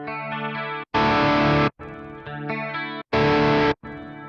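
Electric guitar played through a Fractal FM9 gigging preset with scene switching, distorted chords and sustained notes broken by short silent gaps as amp and reverb settings change, louder bursts alternating with cleaner passages.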